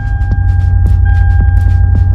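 A Lexus ISF idles nearby with a loud, deep, steady low rumble and a rhythmic throb, a faint whine riding above, the engine running alone without talk.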